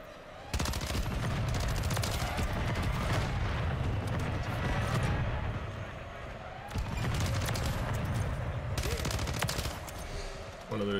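Shotgun and other gunfire in a first-person shooter, dense loud volleys filling most of the stretch with a brief lull near the middle, while a voice talks over the shooting.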